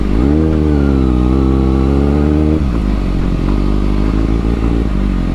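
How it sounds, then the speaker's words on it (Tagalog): A Kawasaki ZX6R motorcycle rides off-road on lahar sand, its engine droning loud and close, with a shift in pitch midway as the revs change and gravelly clatter underneath. "First off-road experience ng ZX6R natin."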